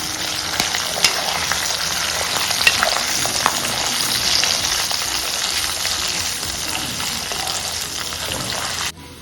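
Mustard powder and asafoetida frying in hot oil for a gongura and red chilli pickle, a steady loud sizzle with scraping stirring throughout, ending abruptly.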